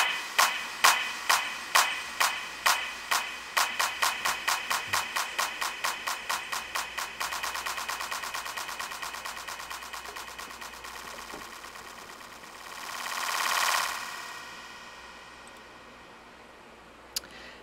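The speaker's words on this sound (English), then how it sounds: "I have a delay effect on this clap." Repeated claps echo in a fast delay, the repeats speeding up and blurring into a rising whoosh that swells and cuts off, followed by one faint click.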